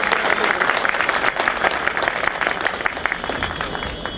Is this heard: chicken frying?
no